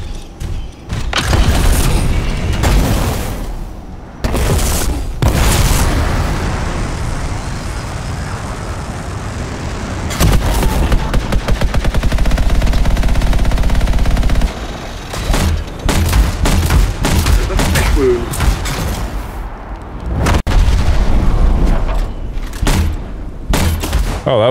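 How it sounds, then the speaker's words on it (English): A grenade launcher in the video game Anthem fires and explodes repeatedly, producing loud, booming blasts and rumbling detonations in clustered bursts, close and heavy, over a sustained roar of game noise. "So yeah, that was my grenade launcher."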